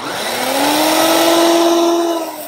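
A Turkish kitchen blender motor whirs loudly and steadily, with a strong constant tonal hum rising slightly in pitch as it holds its speed for a couple of seconds, running alone without talk.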